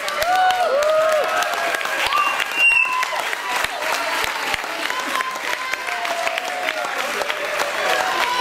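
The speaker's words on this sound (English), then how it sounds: "Give them some applause for the Scotch Bonnet." A crowd at the Woburn Sands Chilli Festival 2014 chilli eating contest final applauds the Scotch Bonnet round with continuous, fairly loud clapping and some cheering, and voices are audible over it.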